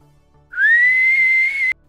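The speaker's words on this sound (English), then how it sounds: "I can whistle a tune with my lips." A person whistles through pursed lips, one clear, loud, sustained note that rises slightly at the start and holds steady for over a second, alone in a quiet room.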